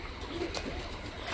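Pet pigeons give a brief, soft coo against a low, steady background hiss, with no voices.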